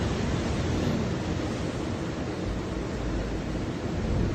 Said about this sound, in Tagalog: Kasi sobrang malakas yung alon dyan.